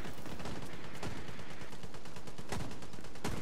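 Gunfire in The Division 2 during a co-op firefight: rapid bursts of automatic shots and several sharp single cracks over a dense roar of battle noise, loud and close.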